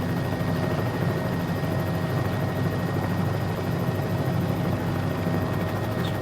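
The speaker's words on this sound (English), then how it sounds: "it's not a bad helicopter to fly. I do like the sound, and I love the looks of it." A helicopter in a flight simulator game flies over Key West, Florida, with a steady, loud rotor and engine drone that holds evenly throughout, with no talking.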